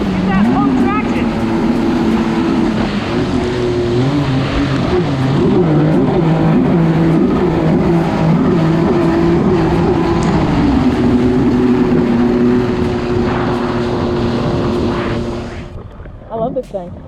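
A 2022 Superjet stand-up jet ski fitted with a Jettrim mat kit runs on a lake, its engine droning loud and close with pitch rising and falling through throttle changes and turns, then quickly dropping away near the end.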